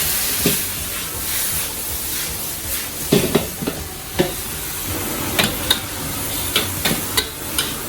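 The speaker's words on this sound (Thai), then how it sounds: "ผัดไปเรื่อยๆพอเริ่มผัดมันสุกแล้วมันจะห้วนลงไปเอง" Minced pork stir-fried in a pan, a steady sizzling hiss with scattered sharp clacks and scrapes of a spatula against the pan, busier toward the end.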